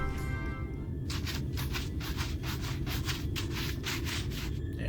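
A wooden surface is worked with a wood file in Final Fantasy XIV, giving a steady series of close, rasping rubbing strokes in an even rhythm with no talk over them.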